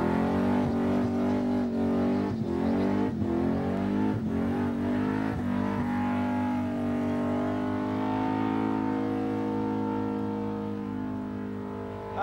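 Chrysler Mopar car engine revving hard through a burnout at the Summernats 14 burnout eliminations, a loud, sustained throaty roar with pulsing rev surges early on, then settling into a steady high drone.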